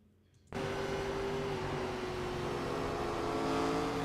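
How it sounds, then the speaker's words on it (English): iRacing NASCAR Gen 4 Cup car at Kern County, its engine cutting in abruptly and holding a loud, steady drone as the revs dip, drop out and climb again, as if it fell out of gear. "the RPMs dropped, then suddenly dropped, and then raised like he downshifted"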